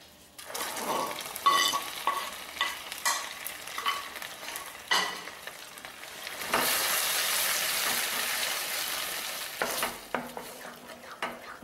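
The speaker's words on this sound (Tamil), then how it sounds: "இன்னும் கொஞ்சம் நேரம் நம்ம கிண்டணும்." Wheat halwa stirred in a hot pan over low flame, close-up scraping and stirring strokes with sizzling, a longer burst of loud frying hiss midway, then more intermittent stirs.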